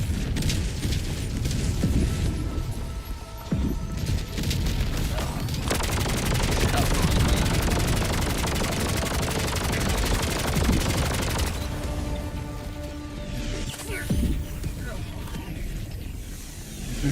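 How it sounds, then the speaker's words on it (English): A video game orbital barrage strike pounds the area with a dense, sustained run of explosions and rapid gunfire-like booms, loud and continuous throughout, with mechanical clatter and a voice speaking over parts of it. "Okay, I'm just gonna throw an orbital at it. Orbital inbound. Firing orbital barrage."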